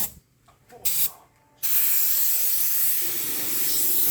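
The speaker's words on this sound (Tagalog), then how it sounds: "Ngayon, lilinisin muna natin ng spray gun." Compressed air blasting from a spray gun to clean dust off a wooden storage cabinet: a few short bursts and then a loud, continuous hiss, close by.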